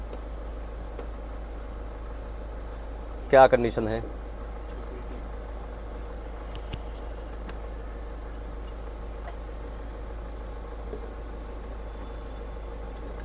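A Ford EcoSport's engine idles steadily after starting, a low, even hum running throughout, with a brief burst of speech near the start.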